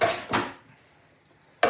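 Two quick wooden-and-ceramic knocks as chopping boards are swapped on a kitchen counter while potatoes are being prepared, followed by a pause and a third clatter; close and fairly loud, with no talk.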